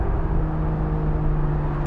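Steady, loud drone of a 2016 Aston Martin Vanquish engine echoing inside a tunnel, heard from the cabin with a strong low hum and no speech.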